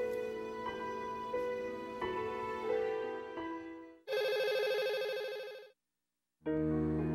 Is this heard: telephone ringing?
yes